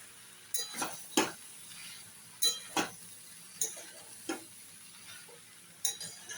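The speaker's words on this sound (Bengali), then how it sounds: "এইবার সব শুদ্ধ এইগুলোকে কষতে থাকবো।" Shrimp and banana stem being sautéed in a pan, heard as a series of sharp spatula clinks and scrapes against the metal at irregular intervals over a faint sizzle.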